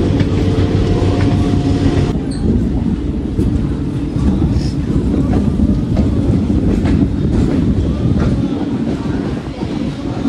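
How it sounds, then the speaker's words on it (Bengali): A passenger train pulling into Bandel station in Hooghly, a loud continuous rumble with rattling wheel clatter and wind buffeting running the whole way through. "এখন আমাদের ট্রেন ঢুকছে ব্যান্ডেল স্টেশনে।"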